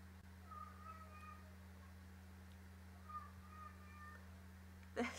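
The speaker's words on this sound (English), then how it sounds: "There's the cat." A cat meows softly a few times, quiet and somewhat distant, over a steady low electrical hum.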